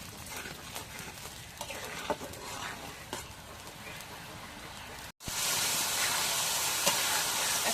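Bengali spice paste of cumin, garlic and onion with salt fries in a pan over a clay stove in a village setting, a steady close sizzle that suddenly jumps louder and brighter after a brief break, with stirring clatter throughout.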